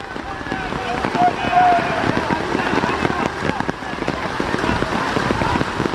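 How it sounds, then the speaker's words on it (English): Heavy rain pours down at a semi-pro playoff football game, a dense, steady hiss and patter that fills the whole clip. It stays loud and constant, with voices faintly present underneath. "It is raining cats and dogs."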